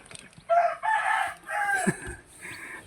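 Chickens and young chicks call and cluck in several loud, drawn-out bursts, close by, with softer chatter in between.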